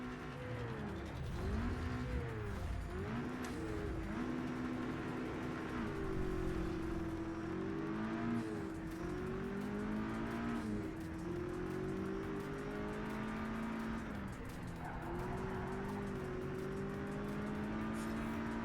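Race cars at the start of a championship race in the video game Project CARS 3, engines whining and revving up and down through gear changes with layered overlapping engine notes, steady and close, no voices.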